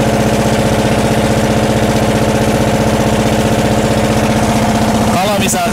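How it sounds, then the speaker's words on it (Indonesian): A loud boat engine drones continuously and close by on a river cruise in Kalimantan, a steady rumbling throb that stays constant throughout. "kapal ini menggunakan mesin yang begitu nyaring ya suaranya"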